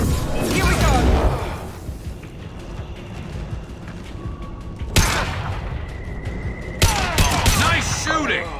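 Rapid gunfire bursts from a Mass Effect 2 firefight, loud and dense at the start, then sharper volleys returning near the end, with shouted voices mixed in.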